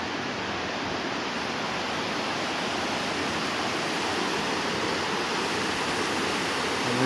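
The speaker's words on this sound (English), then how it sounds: "We've got the river flowing down." Roaring Run falls in Roanoke, Virginia, where river water cascades over stone in a steady, loud broadband rush that holds unbroken and close throughout, with no voices.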